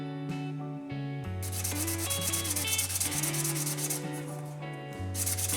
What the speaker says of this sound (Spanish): empezamos a pasar esmeril bajando el grano hasta al menos esmeril 600